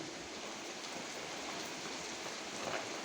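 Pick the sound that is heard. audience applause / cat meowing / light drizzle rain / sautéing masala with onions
light drizzle rain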